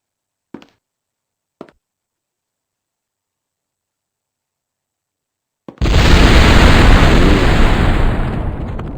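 In the video game Survivalcraft 2, two small sharp pops, a pause, then an underground explosive set off with a fire arrow bursts into a loud, sustained rumbling roar lasting several seconds.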